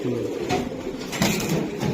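A racing pigeon coos softly and close by, with a low throaty murmur running through the short moment amid room noise and faint background voices.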